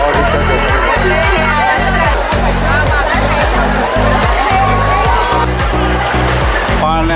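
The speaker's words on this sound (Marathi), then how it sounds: "हे बघा गर्दी बघा." A packed Prabhadevi temple fair (jatra) fills the air with steady crowd babble and splashing water, and a pulsing low mechanical thump of rides beats under it the whole time.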